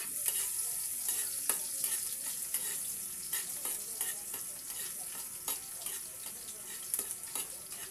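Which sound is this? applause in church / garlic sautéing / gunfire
garlic sautéing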